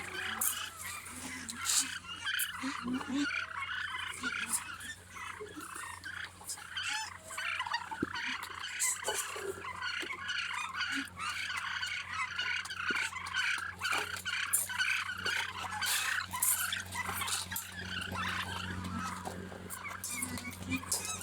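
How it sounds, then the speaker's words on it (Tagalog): A noisy farmyard din of many birds calling at once, with gobbling and clucking overlapping continuously, fairly loud and close throughout. "mga pabo."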